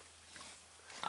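Big farm pigs grunt and snuffle faintly at a distance, with a few soft oinks rising near the end.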